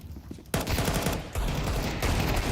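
A scout sniper rifle shot in Counter-Strike, part of a loud burst of gunfire that breaks in suddenly, with a second surge of shots partway through and no talking.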